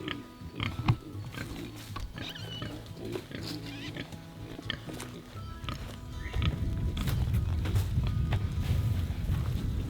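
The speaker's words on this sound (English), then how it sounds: "It is now piglet wrangling time." Piglets on a homestead being caught by hand, with pig grunts and scuffling throughout that grow into a louder, denser burst of squealing and commotion in the second half.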